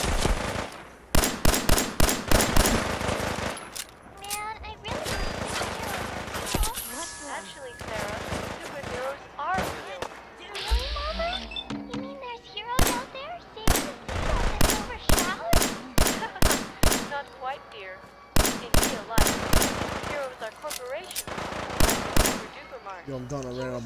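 Rapid bursts of video game gunfire crack loudly in clusters and long automatic strings, with short gaps between volleys.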